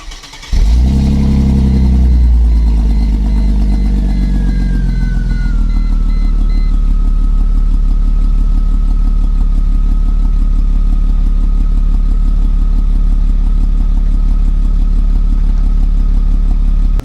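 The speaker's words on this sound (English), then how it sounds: "Now let's start the C32." Mercedes-Benz C32 AMG engine cranking and catching with a loud burst, then settling into a steady, throbbing idle with a faint high whine, heard alone without talk.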